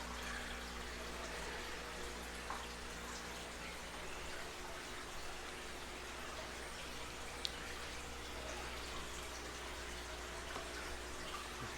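Aquarium water is siphoned out of a tank with a pump faster than a python hose. It makes a faint, steady rushing flow over a low electrical hum, with one or two small clicks.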